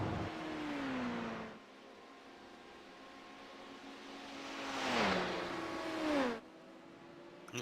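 Two prototype race cars, an LMP1 and an LMP2, roar past in a racing game, their engines whining at high revs, the first swelling and fading early, the second approaching louder and sweeping by near the end.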